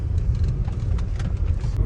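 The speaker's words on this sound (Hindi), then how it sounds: "अभी ऑलमोस्ट 10 बज चुके हैं एंड उसके बाद भी अच्छा खासा ट्रैफिक है रोड पे" Steady low rumble of dense night traffic on a Mumbai road, car engines and passing vehicles blending into a continuous wash with faint higher hiss, no voices.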